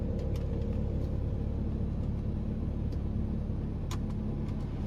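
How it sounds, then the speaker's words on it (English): A Mini Cooper S R53 engine runs steadily just after starting, giving a constant close low rumble with faint light ticks on top and no talking. "Car started fine."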